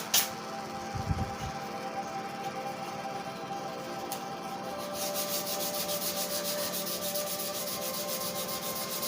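Primer varnish being sanded by hand on a guitar body, a close, continuous rubbing scrape that grows more rhythmic toward the end, with no voices.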